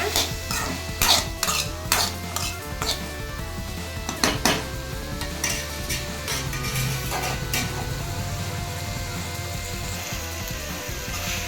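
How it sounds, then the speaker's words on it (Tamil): Cut drumstick pieces sautéed in a pan for a thokku, with a steady sizzle and repeated metallic scrapes and clatters of a spatula stirring, loud and close, no talk. "முருங்கைக்காய் கட் பண்ணி வச்சுருக்கேன் இதை சேர்த்துக்கலாம் இதை நல்லா வதக்கிக்கோங்க"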